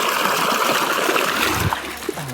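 Water gushes steadily from a running borewell pump on a farm, a continuous close rushing and splashing flow with no pauses.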